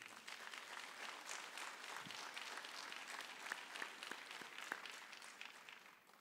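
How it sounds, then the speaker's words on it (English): Audience applause at a rail safety campaign event: steady, fairly faint clapping from a crowd that runs for several seconds with scattered sharper claps standing out. "Can we give him a round of applause?"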